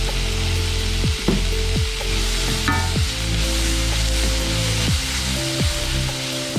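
Ginger garlic paste and split green chillies sizzle and fry in a pan for a mushroom masala, a steady hiss broken by repeated scraping stirs of a spoon, close and alone.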